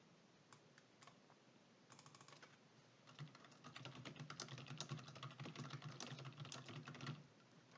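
Computer keyboard typing while entering text in an Excel spreadsheet, starting as sparse isolated key clicks and building into a steady, fairly quiet run of rapid keystrokes with no speech.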